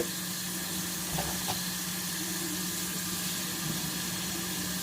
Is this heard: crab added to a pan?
yes